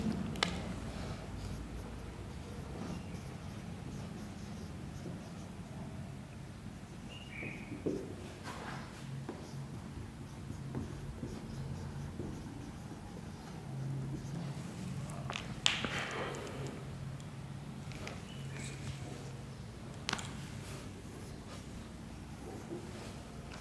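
Chalk or marker writing a heading and definition about endothermic and exothermic reactions on a classroom board, with soft continuous scratching strokes and occasional taps over about twenty seconds, faint and without talking.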